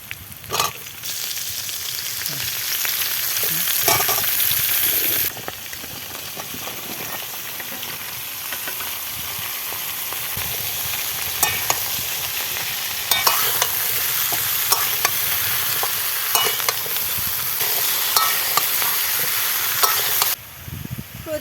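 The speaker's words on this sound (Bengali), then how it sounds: "এক এক করে সবজিগুলো কড়াইতে দিয়ে দিচ্ছি।" Mixed vegetables go one by one into a hot wok, setting off a steady, close sizzle with frequent scraping and stirring clatter throughout, briefly easing near the end; no one speaks.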